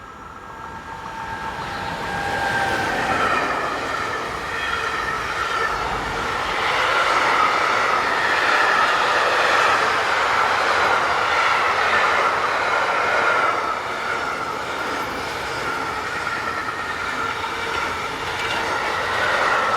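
A Class 189 locomotive hauls a train from Antwerp to Ruhland past, a long steady rumble with rhythmic wheel clatter and faint squealing that swells and stays loud throughout.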